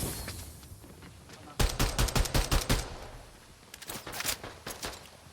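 Fortnite gunfire: a rapid burst of about eight loud shots, a pause, then a second shorter volley, set against quiet background ambience.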